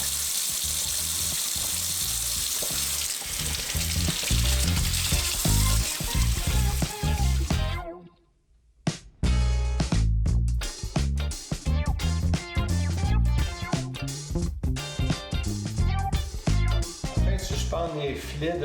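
Steady running water rinses brine syrup off salmon fillets being readied for hanging in a smoker, a continuous splashing wash under music that breaks off briefly midway before resuming.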